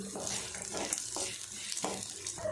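Roasted gram dal frying with green chillies in a pan for a spicy chutney: crackling sizzle with repeated scraping strokes of a spatula in a loose rhythm, close and moderately quiet, no voices.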